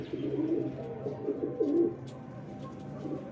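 Champion pigeons coo softly and repeatedly at close range, a low throaty burbling with a few brief pauses and no talk over it.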